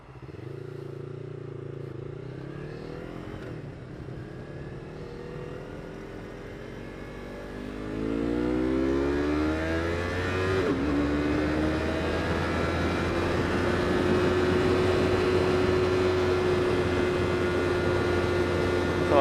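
A Yamaha R3 motorcycle engine pulls hard on a highway, its rising pitch climbing through the gears with a shift near the middle, loud and steady under wind rush.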